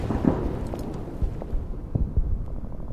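Artillery and gunfire in the World War II strategy game Order of Battle, set at Saipan with US Marines: a dense, rumbling barrage of booms and sharp reports layered over a continuous low roar, loud and close.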